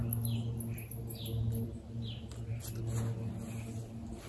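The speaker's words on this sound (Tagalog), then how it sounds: "Maraming ibon dito sa umaga." Small birds chirp and tweet in a backyard raised-bed garden on a summer morning after a hailstorm, their brief high calls scattered over a steady low hum.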